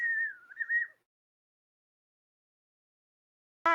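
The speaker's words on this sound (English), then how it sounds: "That sounds like a cheap ocarina" A soundboard whistle effect resembling a cheap ocarina plays as a short wavering tone of about a second, loud and alone, followed by a long silence.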